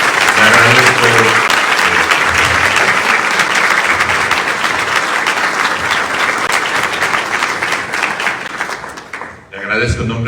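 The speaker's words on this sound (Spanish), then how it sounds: "Pues no me resta más que pedir un fuerte aplauso para el doctor Florent." Loud, sustained applause from a lecture audience after a keynote talk, dense clapping filling nearly ten seconds before tapering off, with a voice starting to speak at the very end.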